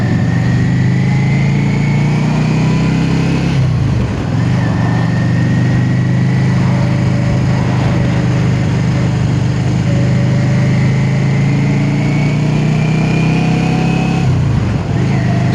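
Motorbikes on Kirkstone Pass, a continuous loud engine drone with rising and falling whining tones as machines rev and pass, close and unbroken throughout.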